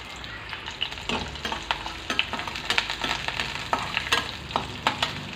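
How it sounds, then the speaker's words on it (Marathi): Chopped onion fries in oil in a kadhai for a spicy Kolhapuri misal, a steady loud sizzle broken by repeated scrapes and clinks as it is stirred. "चांगला सरसरीत आपण कांदा थोडासा कलर चेंज होईपर्यंत आपण हा कांदा भाजून घ्यायचा आहे"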